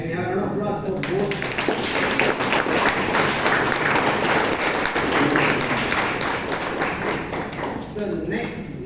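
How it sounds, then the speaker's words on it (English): At a Toastmasters club meeting in Bangalore, the audience claps in a round of applause for two speakers, crisp and steady, while a voice talks over the start and the end. "Can we have a round of applause for both?"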